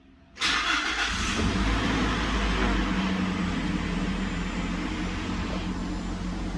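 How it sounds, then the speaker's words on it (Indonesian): A manual car's engine cranks and catches with a sudden loud burst, then settles into a steady, even idle that runs on alone with no talking. "Kita injek kopling, lalu kita start up."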